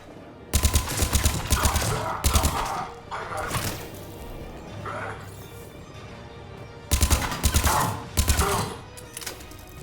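Gunfire in a Mass Effect 3 battle erupts in loud, rapid bursts of shots, with quieter combat noise and brief talk in between before another heavy burst near the end.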